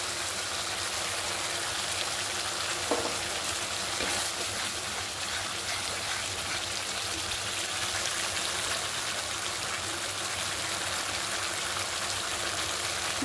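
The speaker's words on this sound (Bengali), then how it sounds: "মশলাটা সুন্দর করে কষাই নিতেছে, তেল চারিদিকে ছাড়তেছে।" Spice paste (masala) for paneer curry frying in oil, giving a loud, dense, continuous sizzle without pause.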